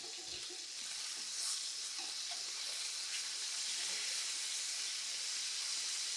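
Steak searing in a hot pan, a steady close hiss and crackle of sizzling fat that holds constant throughout with no voices.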